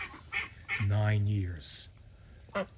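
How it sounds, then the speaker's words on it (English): Silver call ducks quacking in the background, a few short honking quacks with one longer loud call, under someone speaking nearby. "this is a silver call duck. They're the ones that are quacking."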